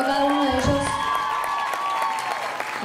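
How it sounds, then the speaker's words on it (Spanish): A live-show audience gives a band a steady burst of applause that blends with lingering sustained tones from the stage, and a voice is heard over it. "Quiero que den un aplauso a cada uno de ellos."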